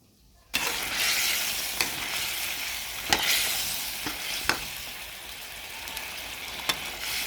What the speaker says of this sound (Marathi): आणखीन आपल्याला 3 ते 4 मिनिटं मसाला चांगला परतून घ्यायचा आहे